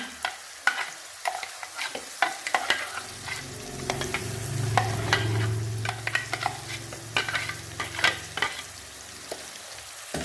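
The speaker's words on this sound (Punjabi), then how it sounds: "ਇਹਨਾਂ ਨੂੰ ਪਾ ਕੇ ਆਪਾਂ ਚੰਗੀ ਤਰ੍ਹਾਂ ਹਿਲਾ ਲਵਾਂਗੇ" Meat with tomatoes and chilies is stirred in a hot pan for a rustic desi meat dish: a soft sizzle under irregular spoon scrapes and knocks, with a brief low rumble midway and no voices.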